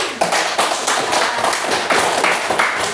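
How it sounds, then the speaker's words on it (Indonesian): A classroom of students claps for a classmate, a dense run of quick hand claps filling the room with sharp, fairly loud taps and no talk over them. "Kasih tepuk tangan untuk Putri."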